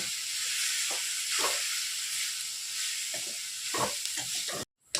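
Continuous sizzling from a hot frying pan as grated coconut is stirred into a broad bean stir-fry, with intermittent scraping and stirring strokes, close up, no talking.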